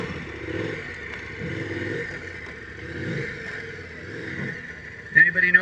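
Adventure motorcycle engine rumbling and surging as the bike runs faster through a series of whoops on a dirt course, throttle rising and falling rhythmically, heard at moderate distance under someone speaking.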